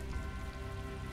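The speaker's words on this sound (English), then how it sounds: "It's raining." Steady rain falls in the video game Tales of Vesperia, a continuous soft patter and hiss of raindrops on surfaces, fairly faint and unbroken, with no talking.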